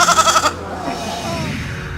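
A newborn lamb bleats once, loud and close, during lambing season on a Yorkshire Dales farm, followed by quieter outdoor background.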